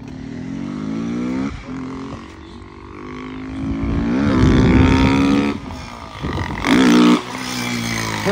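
A motorcycle engine revs up and down loudly at close range, rising to a roaring peak before dropping back to a rough idle.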